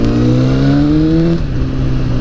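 A Honda CBR1000RR motorcycle engine revs up loud and close, its pitch climbing steadily for over a second before dropping off into a lower steady run.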